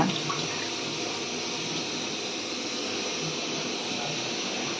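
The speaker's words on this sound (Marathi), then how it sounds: "अशी फणसाची भाजी धुती" Jackfruit vegetable being washed under a running tap, a steady close rush of water splashing continuously with no talk over it.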